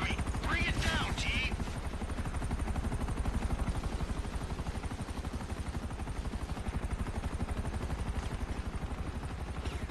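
A helicopter in Grand Theft Auto V hovers close overhead, a loud, rapid, steady rotor chop running throughout, with brief bursts of gunfire near the start.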